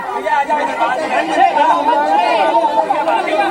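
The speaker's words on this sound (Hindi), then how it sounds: "जबरदस्त भीड़ जो है वो यहाँ पर दिखाई दे रही है" A large outdoor crowd chatters dense and loud at a gathering where a baba emerges from a three-day earth burial. Many voices overlap into a constant murmur with no break.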